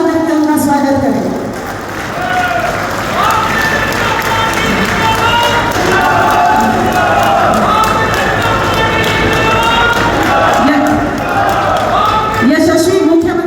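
A large crowd claps steadily at a BJP Vijay Sankalp election rally for the Chief Minister, the applause filling the space continuously beneath an amplified voice speaking over a loudspeaker.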